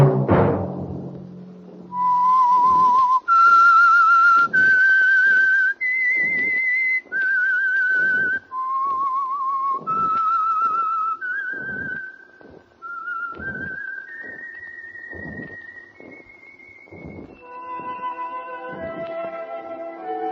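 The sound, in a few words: whistled theme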